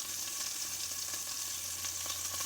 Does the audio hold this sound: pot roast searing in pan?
yes